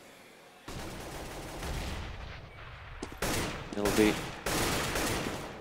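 Rifle gunfire in a professional CS:GO match, a stream of shots and bursts that grows louder in the second half, with a commentator speaking over it.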